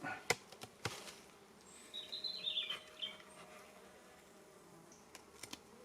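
Honeybees buzz faintly around a hive as it is smoked, with a few sharp clicks and knocks from handling the equipment, and a quiet, intermittent hum rising and falling in the background.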